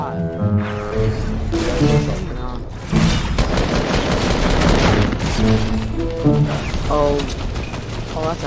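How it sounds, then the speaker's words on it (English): Fortnite gunfire rattles in rapid bursts through most of the stretch, loud and close, with someone talking excitedly over the shots. "How many times do I have to shoot this guy?"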